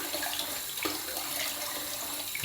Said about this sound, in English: I also put some water in the sink that I can use to then clean off my razor.